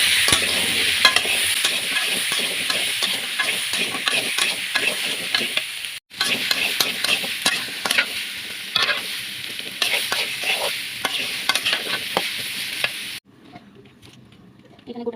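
Pumpkin pieces frying in hot oil, a loud continuous sizzle with frequent stirring clatter, close, briefly dropping out once and cutting off near the end, no talking.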